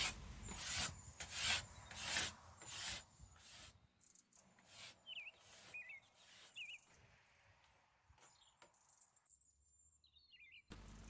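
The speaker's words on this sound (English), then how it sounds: "You can hear the difference in the sound of the scraper when it goes along the grain." Hand scraper drawn along the grain of an old oak tabletop, about five strong rasping strokes in quick rhythm, close and loud, then quieter scraping with birds chirping in the background.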